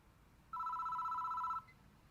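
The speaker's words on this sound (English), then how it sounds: "The phone is ringing." A telephone rings in the horror game Spirit Hunter: Death Mark, one steady electronic ring lasting about a second against faint background hiss, with no talking over it.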